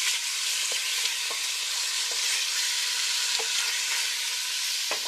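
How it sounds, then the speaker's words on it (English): Ingredients for chicken chili sizzle in oil in a pot, a dense continuous hiss with occasional small pops and stirring clicks, loud and close, with no talking. "Just hear that sizzle, huh?"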